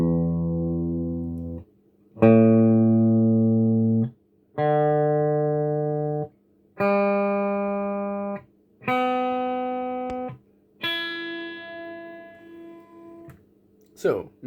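Electric guitar sounding a sustained reference note for a Burzum-style tuning, struck six times in a row with gaps between, each ring decaying slowly, loud and close with no talk.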